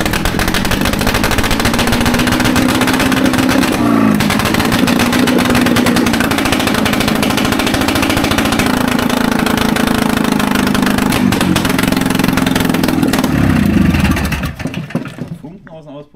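An old Trabant two-stroke car engine, first start in 50 years, roars loudly and steadily at high revs with a rough, rattling buzz, sparks from the exhaust, then cuts out and fades near the end.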